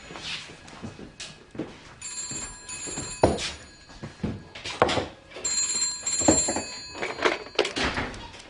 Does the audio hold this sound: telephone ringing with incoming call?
yes